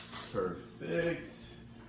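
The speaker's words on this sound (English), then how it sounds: "Give it a nice good stir." A spoon clinks against a container while stirring milk formula for a French Bulldog puppy, a few short close metallic taps with soft mixing noise between them.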